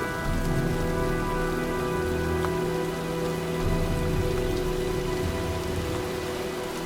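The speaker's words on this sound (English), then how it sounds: "Well, looks like a storm's coming." Steady heavy rain pours down in the game Heavy Rain, a dense constant hiss of drops on surfaces with a faint low rumble beneath, continuous and close, with no talking.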